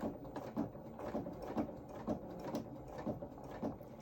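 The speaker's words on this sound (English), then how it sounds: "then we're going to sew just nice and slowly" A sewing machine runs slowly while top stitching along the edge of a knee pad on doll coveralls, a soft quiet rhythmic clatter of needle strokes pulsing about twice per second without pause.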